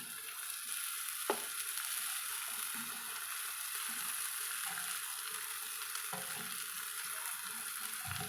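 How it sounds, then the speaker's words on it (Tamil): Mudakathan greens and onions stir-frying in a pan over medium heat, a quiet continuous sizzle broken by occasional soft scrapes of a spatula, with no voices. "வெங்காயம் சுருண்டு வர்ற வரைக்கும் வதக்கிட்டு அதுக்கப்புறமா அந்த வெட்டி வச்சுக்கிற கீரையை வந்து"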